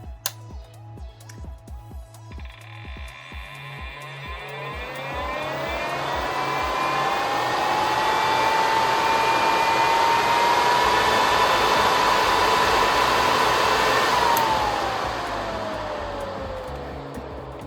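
A three-speed nail dust collector fan from AliExpress spins up to a steady, loud whirring hum with a rising tone, holds it for several seconds, then winds down, with no talk over it.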